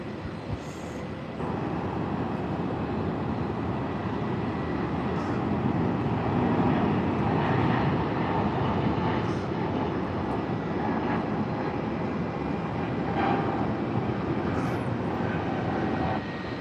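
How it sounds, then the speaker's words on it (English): Jet airliner engines spool up at Tampa International Airport during a busy rush hour, a steady broadband roar rising slightly and holding loud throughout, with no voices. "I do hear some engines spooling up behind me"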